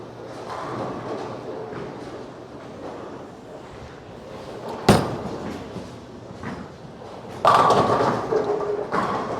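A bowling ball on an oiled PBA lane, a low rolling rumble building over several seconds, then a sharp crash of pins, followed by a louder clattering burst as the pins scatter.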